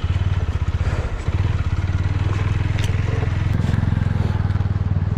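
Hero Splendor Plus motorcycle running at night on a cold Spiti Valley mountain road, its single-cylinder engine thumping in a steady close rhythm with a brief dip near one second, no talk over it.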